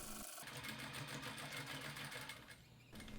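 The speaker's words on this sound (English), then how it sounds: "Pivot again and stitch back to the horizontal line, then pivot again and stitch back down the opposite edge." A sewing machine runs steadily, stitching pant leg fabric for a costume, a continuous close whirring hum that eases briefly near the end before picking up again.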